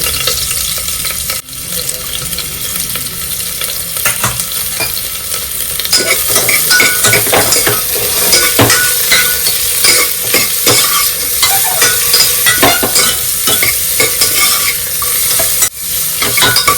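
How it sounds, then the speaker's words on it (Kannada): Chopped onions fry in coconut oil in a pressure cooker with a loud, steady sizzle, broken by frequent scraping stirs and light clinks of a utensil against the pot, with no talking. "ಈರುಳ್ಳಿ ಚೆನ್ನಾಗಿ ಫ್ರೈ ಆಗಲಿ"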